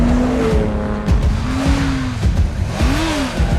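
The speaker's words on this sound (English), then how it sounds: "they suddenly spun the car around to head straight back" A car racing at full speed spins around: tires squeal in sharp rising and falling arcs over a loud engine roar, with no voices.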